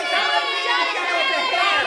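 A group of children in a kids' church program cheering and shouting together, an excited, loud, continuous mix of high young voices filling the room.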